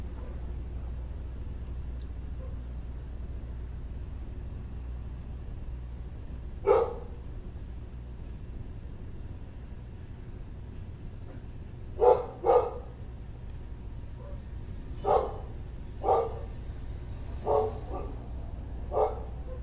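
A dog barks in short sharp bursts, about seven barks spaced irregularly over the span with some doubled, fairly near, over a low steady room hum and no talking.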